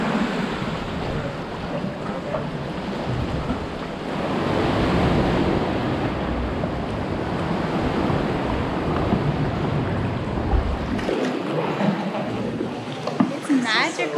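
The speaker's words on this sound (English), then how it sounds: "There's some big waves coming in, but otherwise it's pretty calm." Big ocean waves rolling in at Cathedral Cove, New Zealand, a steady, loud wash of surf with wind buffeting the microphone throughout. Near the end the roar drops away briefly before a few sharper splashes.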